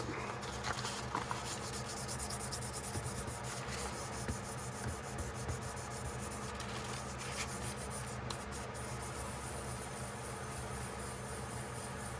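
Steady rubbing on a Case XX camp knife blade to remove scratches, a continuous, even, faint abrasive scrubbing with firm pressure and no pauses.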